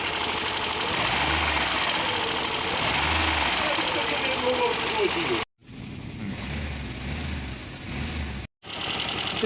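A fuel-injected Tavria engine idles roughly after a cylinder head repair, with an uneven misfiring throb and a low rhythmic pulse close by, broken by two brief cuts, while someone talks over it.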